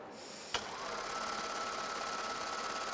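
A Baby Lock overlock serger stitches and trims two layers of fabric with a steady, continuous mechanical whir after a brief click at the start, running alone at close range.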